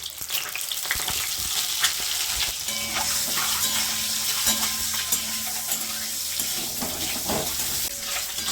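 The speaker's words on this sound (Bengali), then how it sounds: "ফার্স্টে আমি ডিমগুলো ছাড়ানো হয়ে গেছে, এবার ভেজে নেব।" Shelled boiled eggs with turmeric frying in oil, a dense crackling sizzle close by, with stirring clatter and spatters running steadily throughout.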